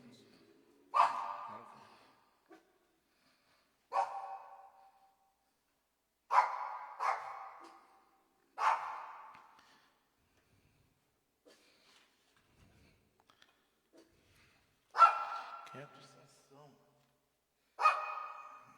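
A dog barks about seven times in single, sharp, well-spaced outbursts, fairly close, with quiet gaps between them.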